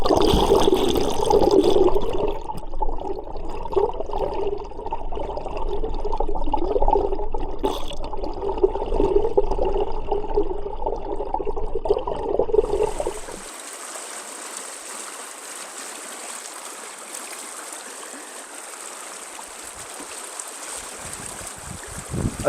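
The Blackfoot River's fast current rushes in a steady, full wash of flowing water that lasts throughout, close by and fairly loud, with a fizzing hiss that turns thinner and brighter near the end, and nobody talking.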